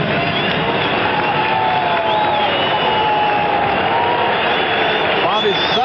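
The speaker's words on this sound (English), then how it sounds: "Yes, some of them are cheering for him." Crowd noise at the 1973 Riggs tennis match, a broad, continuous roar of cheering from a large audience, with a commentator talking over it throughout.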